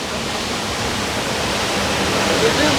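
A waterfall in Antalya, heard from close behind the falling water: a loud, dense, unbroken roar of rushing water filling the whole stretch, with a voice talking faintly beneath it.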